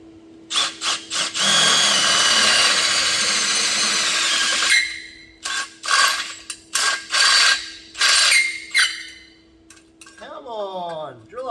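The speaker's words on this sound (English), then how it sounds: "Come on, drill a hole." A power drill bores a hole in metal, whirring loudly and steadily before breaking into short start-stop bursts, with a brief chirping sound at the end.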